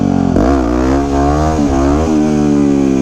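A 2009 Yamaha WR250X supermoto's single-cylinder engine heard up close while riding, loud and continuous, with pitch shifting down and up through gear changes and throttle blips.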